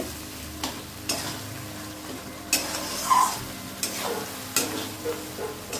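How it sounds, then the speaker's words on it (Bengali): Spiced masala sautéed with potatoes in a pan gives a low sizzle, broken by regular scraping and stirring strokes of a spatula every second or so, near and moderately quiet. "এর সঙ্গে আলুর সঙ্গে আমি ভালো করে কষিয়ে নেব বন্ধুরা মশলাটাকে।"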